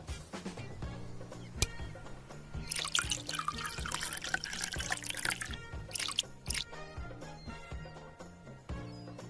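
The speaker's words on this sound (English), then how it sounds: "Pour in 40 milliliters of cachaça and 20 milliliters of sugar syrup." Cachaça and sugar syrup poured into a glass in Bartender VR Simulator, a quiet liquid trickle with scattered drips and glassy clinks, the pour swelling briefly in the middle.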